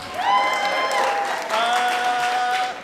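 A theatre crowd at a live science comedy show answers with applause and two rising cheers or whoops over steady clapping, loud and sustained, then easing slightly near the end.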